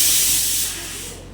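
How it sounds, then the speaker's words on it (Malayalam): A pressure cooker on the stove while chilli beef cooks, letting out a loud, close, continuous hiss of escaping steam that eases off slightly after about half a second. "അപ്പോൾ കുക്കർ വിസിലടിക്കുന്നുണ്ട് കേട്ടോ"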